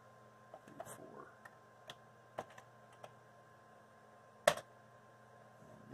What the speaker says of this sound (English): This keyboard is very sticky and drops characters as well